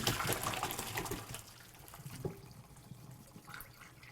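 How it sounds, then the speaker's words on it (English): Cooked rutabagas being drained in a kitchen sink: water splashes and pours briefly, loudest at first, then settles into lighter trickling and a few drips, fairly close and with no talk. "We'll walk these over to the sink and drain them off."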